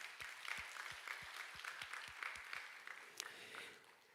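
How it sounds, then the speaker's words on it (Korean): Worshippers at a Korean Sunday church service applaud a small vocal ensemble, a soft, distant patter of clapping in a large hall with a few muted low thumps early on. "우리 다시 한번 격려의 박수하도록 합시다"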